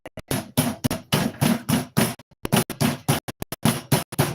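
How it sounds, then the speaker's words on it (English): A meat tenderizer mallet beats chicken in a rapid series of close, loud, wet thuds, with rhythmic bursts of blows separated by short pauses. "I'm going to beat it with the coarse side and then the fine side"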